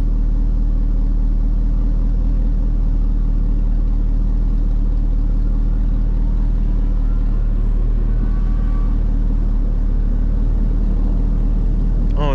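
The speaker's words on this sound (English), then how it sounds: "I don't know if y'all can hear King's car, bro. It got a whine to it" A Chevrolet Corvette C6 engine with straight pipes idles with a low steady rumble, and a thin high whine rises faintly over it partway through.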